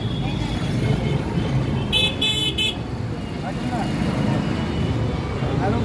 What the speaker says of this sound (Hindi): गाड़ी गाड़ी पीछे आ रही है।